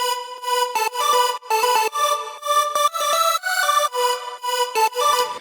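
Buzzy, heavily detuned square-wave synth lead from the Vital synthesizer playing a choppy melodic line of short staccato notes, loud and alone.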